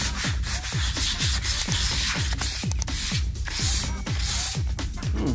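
Abrasive sanding of an apartment wall during renovation, a steady run of rhythmic back-and-forth scraping strokes, close and fairly loud, with no talking.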